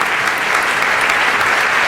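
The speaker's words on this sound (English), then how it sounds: "Stand up and give the applause." An audience claps at a Noam Chomsky lecture, a dense, loud and sustained applause with no talk over it.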